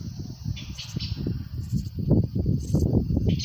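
Brief, sharp high chirps of a dark bush cricket repeat a few times over rustling, bumpy low noise, with a blackbird faintly singing nearby.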